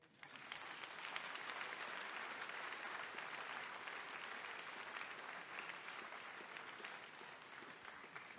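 An audience at the Gala Stele Românești 2022 in Timișoara applauds steadily and fairly loudly for the whole stretch, a dense wash of clapping that swells quickly and holds without a break.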